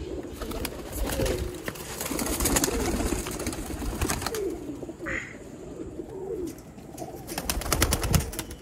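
Pigeons coo repeatedly at a pigeon show, soft throaty calls close by against scattered clattering and wing-flap bursts, with no speech.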